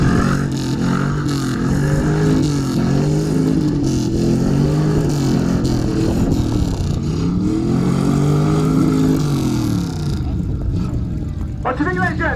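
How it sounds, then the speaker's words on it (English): Classic car engine revving hard at an outdoor classic car show loudness contest, a loud sustained throaty roar rising and falling in pitch across repeated revs, with crowd noise underneath. "Rev it up."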